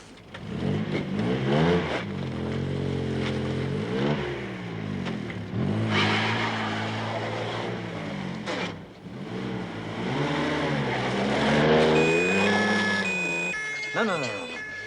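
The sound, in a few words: car engine revving as it is turned around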